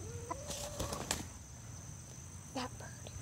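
A backyard chicken clucks in a few short bursts close by, with brief squawky notes over a faint steady hum, and a person speaks briefly over it.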